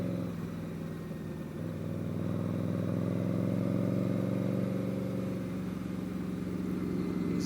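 A Subaru car passes close by a motorcycle on the road, a steady, loud engine drone and road rumble swelling slightly and holding throughout, with no voices.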